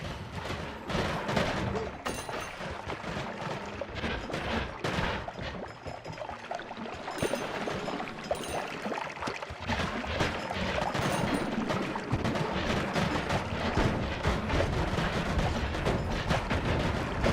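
Explosions and crackling blasts pile up continuously in the roguelike Noita, a dense, busy barrage of bursts with scattered sharper pops that grows somewhat louder in the later half.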